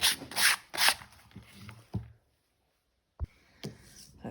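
Flat shoes being sanded by hand before painting for a cookie-themed custom design: quick, rhythmic rasping strokes up close, then a silent pause and a couple of light knocks.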